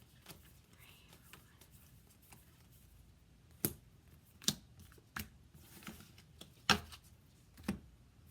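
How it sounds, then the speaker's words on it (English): A new deck of tarot cards is shuffled, sharp riffling snaps standing out every second or so against a quiet background. "sometimes it gets a little hard to shuffle a new deck"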